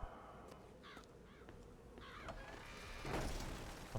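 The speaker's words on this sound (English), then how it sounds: "There's a bird there" A crow cawing in a video game, several harsh caws in quick succession over a steady low rumbling background, moderately near, followed by a muffled boom.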